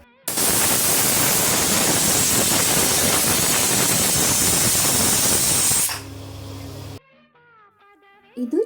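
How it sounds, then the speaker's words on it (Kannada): A small pressure cooker boiling chillies in water lets out a loud, harsh, steady hiss of steam for about five and a half seconds. It then drops to a quieter rumble and cuts off, and a voice follows near the end. "ಇದು ಚಿಕ್ಕ ಕುಕ್ಕರ್ ಆದ ಕಾರಣ 3 ವಿಷಲ್ ಬೇಕಾಗ್ತದೆ."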